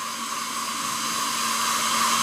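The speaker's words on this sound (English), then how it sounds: "So you just turn on the hairdryer." A hair dryer runs steadily and loudly close by, a continuous even whoosh with a constant motor hum, aimed at the excess plastic on the tail of a 30 cm X-Plus Titanosaurus figure to soften it.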